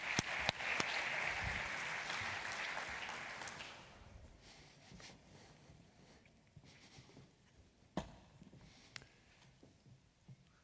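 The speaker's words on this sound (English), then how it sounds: "Big round of applause, please, for Dr. Freytag." An audience gives a round of applause for Dr. Freytag, starting loud and steady before fading into scattered claps and room noise within a few seconds.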